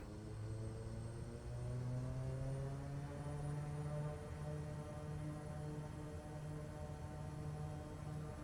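A Kodiak propeller aircraft powers up for takeoff, its engine drone and propeller buzz steady and strong, with harmonics slowly rising in pitch as it accelerates down the runway.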